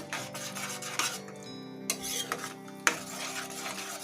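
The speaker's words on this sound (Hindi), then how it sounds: "इसमें टमाटर की प्यूरी जैसे डाल के मसाले के साथ इसे भी भून लेंगे हम" Masala and tomato puree being stirred and fried in a pan for lauki kofta curry gravy, with steady scraping and rubbing of a spoon against the pan, occasional sharper clinks, and a faint sizzle underneath.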